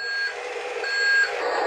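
Reversing beeper on a HUI NA 1583 1/14-scale RC model truck sounds a steady series of electronic beeps at close range, with no voices.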